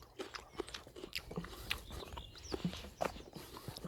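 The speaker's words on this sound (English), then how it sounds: "Bit of nice chewing noise for you." Faint, close crunchy chewing of a peeled, succulent plant stem picked on a salt marsh hedgerow, a run of irregular moist bites and chomps with no talk.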